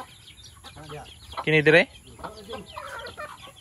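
A chicken lets out a sharp, loud cluck in a pair of quick bursts amid quieter clucking and people chatting nearby.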